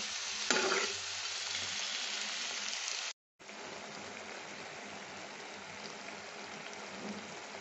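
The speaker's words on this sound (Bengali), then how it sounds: "লাউটা দিয়ে আমি একটু কষে নামিয়ে তারপরে ফিরে আসছি।" Bottle gourd sizzles and is stirred in a hot pan for a fish-head shukto, a dense close frying hiss with a sharp clatter near the start and a brief cut in the middle, then steady sizzling.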